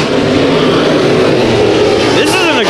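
Race cars roar through a heat race at Bakersfield Speedway, a loud, continuous engine drone with a passing car's pitch sweeping near the end, under a commentator's voice.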